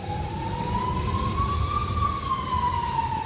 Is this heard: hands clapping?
no